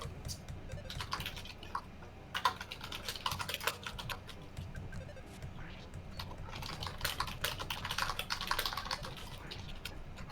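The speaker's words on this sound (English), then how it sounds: "I'm just gonna casually type here" Fingers type on a computer keyboard in quick irregular bursts of clicks, close and clear, with some quiet talk in the background.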